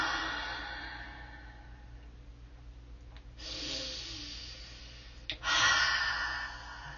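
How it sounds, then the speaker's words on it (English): Long forceful hot exhalations during a meditation, two or three deep breaths pushed out with a rushing, breathy hiss, close to the microphone and fairly loud, with no talk. "Push it out, nice hot breath"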